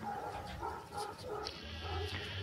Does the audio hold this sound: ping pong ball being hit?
no